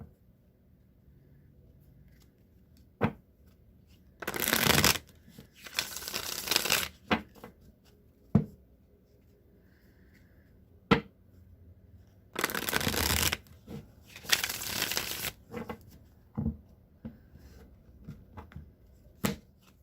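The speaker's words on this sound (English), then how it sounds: "I'm gonna shuffle now the Deviant Moon deck" Tarot cards from the Deviant Moon deck being shuffled in several bursts of riffling and flicking, separated by quiet pauses and occasional soft taps.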